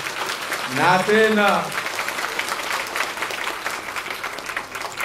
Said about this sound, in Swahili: Hayo makofi kiduchu kwa mawakala